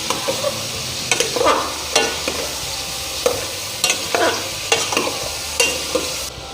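Chicken for Afghani karahi sizzles in a hot pan while a spoon scrapes and stirs it at a regular pace, close by.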